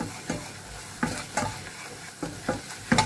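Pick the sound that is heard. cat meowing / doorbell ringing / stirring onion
stirring onion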